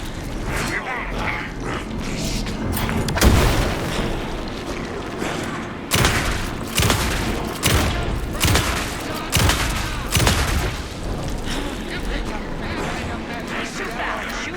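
Gunfire in the video game Alan Wake 2: repeated loud shots and booming impacts in a steady barrage over a dense game soundtrack, with voices talking throughout.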